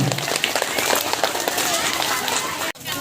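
A group of children applauds at a Scout camp, a dense, close burst of clapping that breaks off abruptly near the end.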